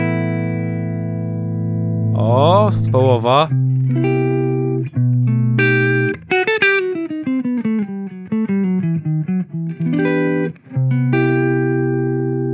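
A Taurus SH7 Apogee floor guitar amplifier on its clean channel with the servo engaged, sounding sustained chords and single-note runs with mild saturation, loud and close, with a brief spoken interjection.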